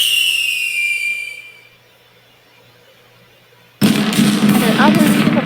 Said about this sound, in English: the first fireworks exploded in the distant sky, igniting cheers from the crowd